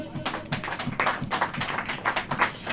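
A church congregation claps hands in a steady rhythmic beat during a sermon, many hands together at a moderate distance, with a faint voice underneath.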